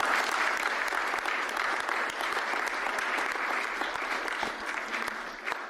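Sustained applause from a gala dinner and awards night audience for the keynote speaker, dense steady clapping that fills the room at a loud, even level throughout.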